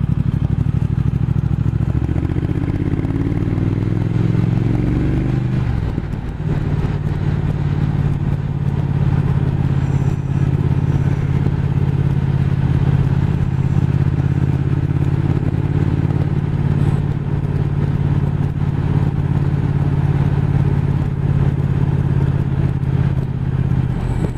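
A Triumph Speed Twin motorcycle climbs a snowy mountain road toward Flaine, its engine note steady and droning, with a brief gear-change dip early on and then a sustained pull, loud and close throughout with no talking.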